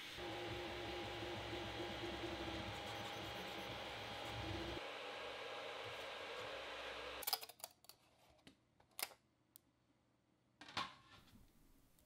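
Kingroon KP3S Pro V2 3D printer at 350mm per second printing a fidget puzzle in Hyper PLA, a steady fan-laden mechanical whir for several seconds, then quieter stepper motor moves with sharp clicks and brief whines.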